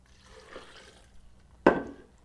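Water poured into a blender holding cashews while a cashew sauce is made, a brief sharp splash-and-gush near the mic that quickly tails off after a faint quiet stretch.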